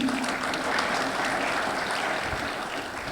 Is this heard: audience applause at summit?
yes